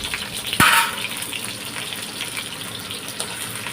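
Onions and green chillies are sautéed in hot oil in a pan for chicken thokku: a sharp burst of sizzle as they go in, then a steady frying hiss, close and with no talk.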